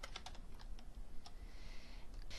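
Quick, light clicking of computer keys while a column name is typed into a spreadsheet, a brisk irregular patter of taps heard close and fairly quiet, with no talk.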